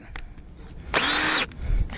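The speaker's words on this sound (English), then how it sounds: "I'm not looking to drill deeper, I'm just looking to clean it out." A power drill whirs in one loud, steady burst of about half a second, clearing wood shavings from a tap hole in a maple tree, with quieter handling noises before and after.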